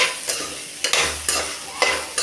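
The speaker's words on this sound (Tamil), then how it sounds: "இஞ்சி பூண்டு பேஸ்ட் போட்டு நல்லா கொஞ்சம் ஸ்ப்ரெட் ஆகிற மாதிரி கலக்கணும்" Potatoes being stir-fried with ginger garlic paste for a Tamil-style potato fry, with repeated spatula scrapes and bursts of sizzling in a pan at a steady, uneven rhythm, close and moderately loud with no talking.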